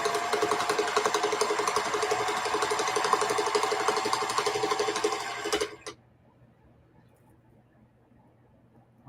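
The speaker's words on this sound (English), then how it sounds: "I'm going to double stitch here. I mean back stitch, not double stitch." A sewing machine backstitches seams on a large weekender bag, running as a fast, steady, close mechanical chatter for about six seconds before stopping abruptly into near silence.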